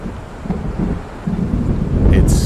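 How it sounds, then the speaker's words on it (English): Thunder of an approaching storm in Alan Wake Remastered, a continuous low rumble with wind-like noise that swells toward the end and ends in a brighter crack, loud and without speech. "It seems there's a storm coming."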